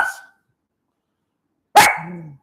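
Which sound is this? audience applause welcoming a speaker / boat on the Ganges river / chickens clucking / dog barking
dog barking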